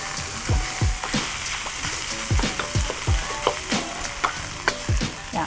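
Onions fry in a pan for a hoisin beef noodle stir-fry, a steady close sizzle broken by repeated scrapes and knocks of a utensil stirring at an uneven rhythm, with no talk.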